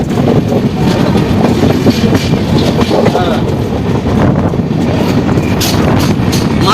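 The Malda Town–Kiul Intercity Express rushes past on the Sultanganj–Bhagalpur route, a loud continuous roar with rhythmic clickety-clack of wheels over rail joints and wind buffeting the microphone, heard from very near.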